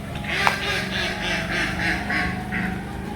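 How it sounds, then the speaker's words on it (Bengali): Two ducks swimming in rain floodwater in a rural village give a steady series of about seven raspy quacks, fairly close, over a constant low background hum. "দুটা হাঁস, দেখুন এই দুটা হাঁস পানির ভিতরে সাঁতার খেলতেছে"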